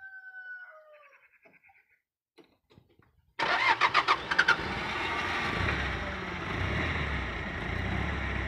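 After a few seconds of near quiet with faint bird-like chirps, a car engine cranks with a few quick bursts, catches, and settles into a steady, fairly close running drone.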